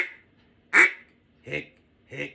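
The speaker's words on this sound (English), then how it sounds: "whether I'm blowing a mallard call, it doesn't matter, small bore or big bore" A small bore mallard duck call is blown in three short quacks, the first loudest, spaced about three quarters of a second apart, close and clear against a quiet background.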